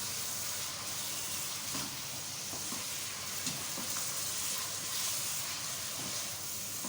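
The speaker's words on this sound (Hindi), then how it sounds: "कीमे को थोड़ा सा भूनें" Mutton mince with salt frying in a pan for aloo keema karahi, a faint steady sizzle and hiss with scattered small pops and stirring clicks, no talking.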